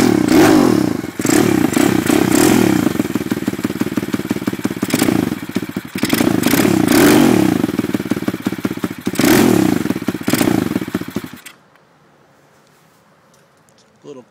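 A cold Lifan 140 engine on an Evos pit bike runs loud and rough, with a rapid popping beat and bursts of revving, then cuts off abruptly near the end. Short voices come through the engine noise.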